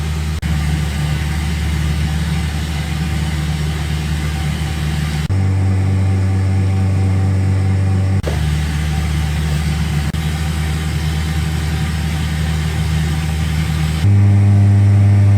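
A Cessna 172 engine droning steadily in a flight simulator game, loud and continuous in flight, with pitch shifts between two steady tones and no speech.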